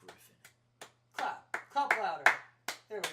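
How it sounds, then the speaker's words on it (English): A few people clap at a casual show taping, sparse and uneven bursts of hand claps close to the microphone, rising into a brief flurry before trailing off. "Clap louder."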